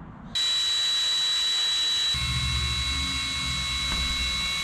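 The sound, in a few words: power drill drilling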